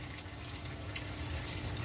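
Fresh water pours steadily into a koi pond during a water change, a continuous close splashing and trickling flow that runs alone for the whole short stretch without any voices.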